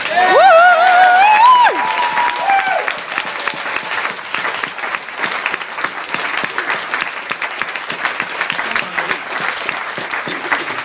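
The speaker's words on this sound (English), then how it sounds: "Come on, let's have a round of applause." A wedding crowd breaks into a sustained round of applause for the newly married couple, steady dense clapping that carries on alone after a brief voice at the start.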